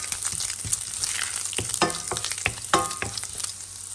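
Garlic fries in a pan for a creamy prawn dish, a constant sizzling crackle broken by repeated scraping stir strokes close up.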